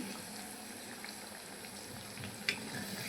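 Bengali khaja pastry fries in hot oil, giving a soft, steady, even bubbling hiss at low volume, with one small clink partway through and no talking.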